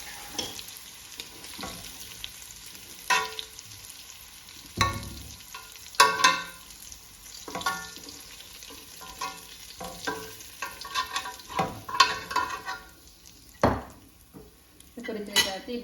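Prawns frying in a pan for biryani, with a soft continuous sizzle under frequent metal clinks and scrapes of a utensil stirring against the pan, irregular and close.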